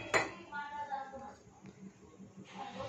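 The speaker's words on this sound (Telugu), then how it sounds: "కడాయి పెట్టుకుందాం" A metal kadai is set down on a stove with one sharp clank, followed by a person talking nearby.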